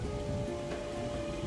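Steady rain patters continuously in a dense, even wash of noise, with a faint low rumble beneath and no voices.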